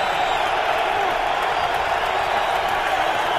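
A roaring football stadium crowd at a 2007 Browns at Patriots game forms a steady, loud wash of cheering and noise that never lets up, with no distinct claps or breaks standing out.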